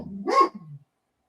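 A dog named Tucker gives a single close bark that tails off into a short whine, then silence.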